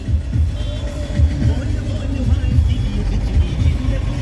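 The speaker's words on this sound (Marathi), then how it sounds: "ट्रॅफिक आहे इथे." Steady street traffic outside a family restaurant, cars rumbling past in a continuous low drone with occasional engine swells, moderately loud throughout.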